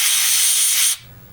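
Strong steady hiss of compressed air blown into the keyboard contacts of a Radio Shack TRS-80 Model 1, loud and continuous for about a second before cutting off to quiet.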